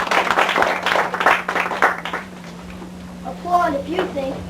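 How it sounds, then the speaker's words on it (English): Students in a classroom applaud in a short burst of scattered clapping lasting about two seconds, then the room goes quiet before a voice speaks. "Applaud if you think Abraham Lincoln, number 2, is the real Abraham."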